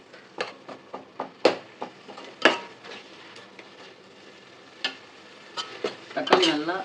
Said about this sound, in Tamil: ஃப்ளேமை ஹையில் வச்சு அப்படியே நல்லா கிண்டி விடுங்க